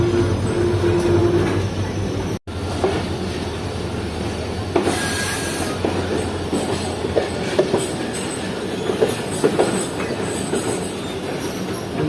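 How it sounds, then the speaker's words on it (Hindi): Karachi Express train running between Lahore and Karachi passes close by, with a loud rumbling roll, rattling wagons, wheel squeal and rhythmic clickety-clack that continue steadily throughout with no talk. "लाहौर कराची के दरमियान चलने वाली 16 डाउन कराची एक्सप्रेस।"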